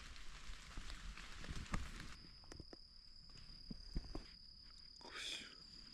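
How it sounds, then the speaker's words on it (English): Rain falls during an Appalachian storm, heard from inside a camping hammock: a steady soft patter with scattered drips and taps, plus a thin whine or hiss partway through and a brief rustle near the end. "It's just relaxing, listening to the rain and hanging out."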